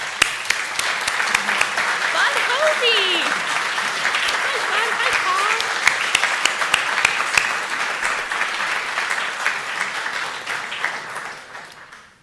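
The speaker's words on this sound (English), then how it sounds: "and be recognized with a round of applause." Guests at an alumni awards celebration give sustained applause for past Albert Fox Demers Medal recipients, with dense clapping throughout and a voice calling out over it before the applause fades at the end.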